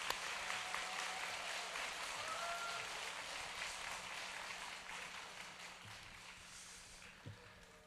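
A church congregation applauds a pastor with soft, distant, steady clapping that gradually tapers off over several seconds, with a faint low hum underneath.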